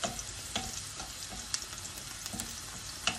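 Onions sautéing in a pan for paksiw lechon, a steady soft sizzle broken by several sharp clicks and scrapes of stirring, with no voices.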